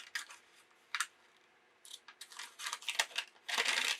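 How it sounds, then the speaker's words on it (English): Scissors cut through a folded paper bag, giving a few faint, close snips and crisp paper rustles spread over a few seconds. "And I'm going to want to cut"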